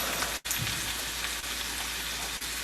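Fried rice ingredients sauté in an 8-inch skillet over rising heat, giving a steady, close, dense sizzle that runs throughout with one brief dropout near the start.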